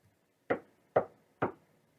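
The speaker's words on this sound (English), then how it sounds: "Surely the fellow wouldn't keep on knocking." Three distinct knocks on a door, evenly spaced about half a second apart, each a short sharp rap with a brief decay, close and alone against silence.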